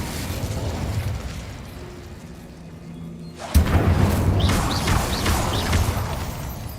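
Spell blasts from a wizarding video game: a soft rumbling hum gives way to a sudden loud burst, followed by a dense crackling roar with several bright whooshing sparks trailing off.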